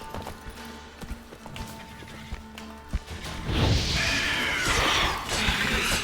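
Horse hooves in the video game Witcher 3 clop in a loose rhythm before a louder, denser burst of movement and crashing takes over the second half, with no speech.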